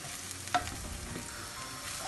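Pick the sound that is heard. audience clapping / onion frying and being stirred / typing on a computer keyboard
onion frying and being stirred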